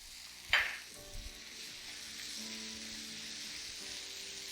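Tomatoes drop into a hot frying pan for a vegetable frittata with a sharp, close splash, then settle into a steady, even sizzle that carries on alone.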